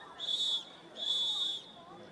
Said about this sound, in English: That is the third whistle from the game advisor.